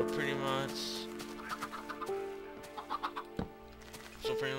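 Short clucking bursts from Minecraft chickens, game-like and close, repeat in small clusters over a steady electronic background tone.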